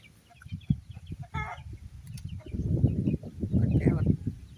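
Several chickens cluck in short, irregular bursts nearby, building into busier overlapping clucking and cackling toward the end.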